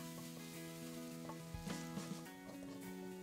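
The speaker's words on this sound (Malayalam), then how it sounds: "ഇനി ഇത് ഒരു ഗോൾഡൻ കളർ ആവാൻ തുടങ്ങുന്നത് വരെ ഇളക്കി വഴറ്റിയെടുക്കുക" Chopped onions with salt sauté in a pan for a Kerala-style chicken roast, a steady soft sizzle running throughout with a few brief stirring scrapes, close and fairly quiet.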